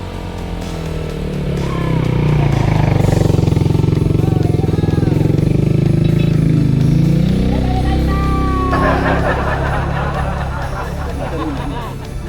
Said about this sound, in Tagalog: Kaso may motor eh.